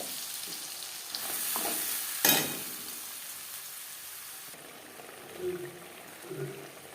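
Onion and tomato paste fries in oil in a wok just used for frying fish, a steady soft sizzle running throughout with a brief clatter partway and faint utensil sounds near the end.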